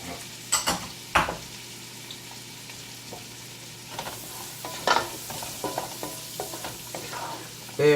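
Onions, celery and carrots sauté in a pot, a quiet steady sizzle broken by a few sharp clanks and scrapes of a utensil against the pot, with no talking.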